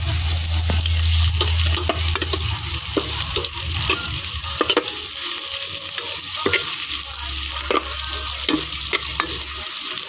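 Ginger sizzling and frying in a pan while being stirred for tinola, a steady close hiss with repeated scraping clicks of the ladle throughout.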